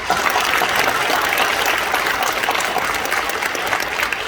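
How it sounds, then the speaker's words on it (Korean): Loud, sustained applause from a large church congregation during a sermon, dense clapping filling the space without a break. "박수 박수"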